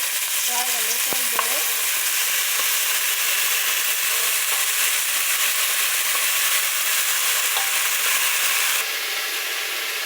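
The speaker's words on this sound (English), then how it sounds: "Now I'm adding the shrimp paste." Garlic and shrimp paste fry in a pan with a steady, dense sizzle that holds evenly throughout, close and fairly loud, with occasional stirring scrapes and no talking.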